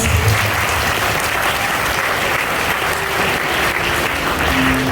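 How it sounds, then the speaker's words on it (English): A school audience at a Teachers' Day celebration in 2023 applauds loudly after a dance by class 10 girls, a thick, even wash of clapping and cheering that holds steady throughout. "Please give them a huge round of applause."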